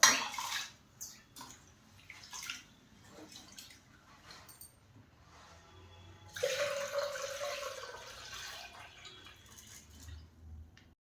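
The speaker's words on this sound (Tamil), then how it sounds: "சிறுதானியத்தை நல்லா சுத்தமாக க்ளீன் பண்ணிடணும். எப்பயுமே 4-5 தடவை கழுவிடுவோம்." Varagu (kodo) millet grains being washed in water with rice and urad dal, soft splashing and swishing by hand with intermittent drips and sloshes, growing into a louder, steady rinse of running water midway.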